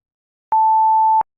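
A single 880 Hz electronic tone from a Flowstone FM synthesizer, an A one octave higher, rings pure and constant for under a second with silence on either side.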